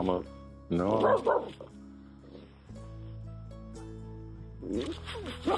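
A Finnish Spitz barks and yips in sharp bursts outdoors, the calls mixed with whimpering tones, while a person speaks briefly in between.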